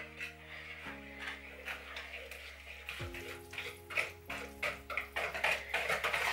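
A whisk beats chocolate, butter and sugar in a bowl, making a series of soft rhythmic clinks and scrapes that quicken and grow louder over a low steady background hum.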